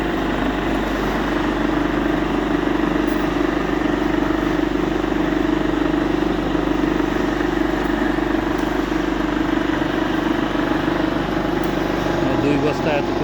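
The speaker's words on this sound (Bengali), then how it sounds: "এই মোটরটা আমাদের ওখানে প্যালেটিং মেশিনের একটা মোটর, ওটা ঠিক করে এনেছে" A repaired motor from a palletizing machine runs on test in a soya machine setup, giving a steady, loud, unbroken mechanical drone and hum with constant engine-like noise throughout.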